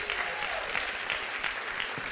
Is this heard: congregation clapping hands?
yes